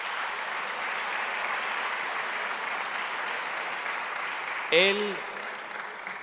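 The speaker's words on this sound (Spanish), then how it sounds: "Fuerte aplauso." Audience applause at a legal conference welcoming a speaker, a steady, even wash of clapping that runs for several seconds before a single spoken word cuts in near the end.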